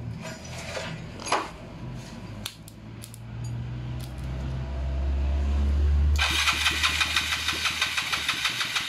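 Motorcycle with a weak, loose battery being started: scattered clicks and clanks, then a cranking churn that catches at about six seconds into a loud, rapidly pulsing idle up close.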